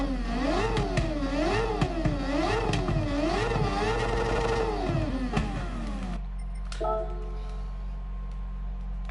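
A car engine idles steadily and close by with a low constant hum under a repeating wavering whine, then settles into a quieter even drone with no talk.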